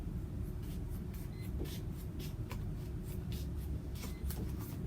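Cork is cut into a toy sailboat hull in a series of short, sharp scraping strokes, roughly a dozen brief bursts over a low steady background hum.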